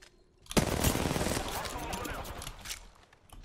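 Gunfire in the Apex Legends battle game, a dense burst of rapid shots that starts abruptly and rattles on loudly for nearly three seconds before fading out.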